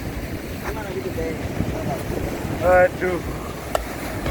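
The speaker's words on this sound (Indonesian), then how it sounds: "dengar suara ombaknya kan?" Steady roar of surf and wind at Pandawa Beach in Bali, a continuous wash of breaking waves with microphone wind buffeting, while a voice briefly exclaims and chatter drifts faintly over it.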